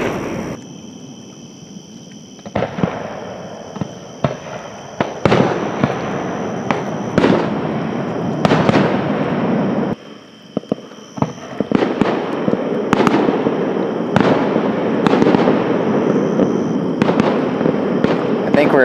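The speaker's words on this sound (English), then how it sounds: "This is a really perfect vantage point of the fireworks display." A fireworks display seen from a fishing spot, with repeated sharp bursts and booming explosions at irregular intervals over continuous crackling and rumble, loud and fairly close.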